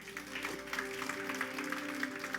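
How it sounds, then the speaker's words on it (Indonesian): A church congregation claps during a worship night, faint rhythmic clapping heard over sustained keyboard tones. "Tepuk tangan untuk Tuhan."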